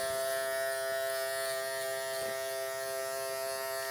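Electric hair clippers fitted with a closed number 3 guard buzzing steadily while cutting a child's hair, a close continuous hum with a small dip midway.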